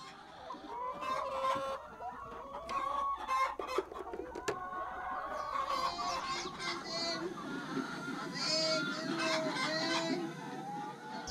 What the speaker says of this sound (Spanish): una granja de 230 gallinas